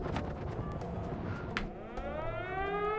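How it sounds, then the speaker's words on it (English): Air raid sirens wail in the video game The Void, a rising, sweeping tone that emerges after scattered clicks and thuds and holds steady toward the end. "Air raid sirens going off here."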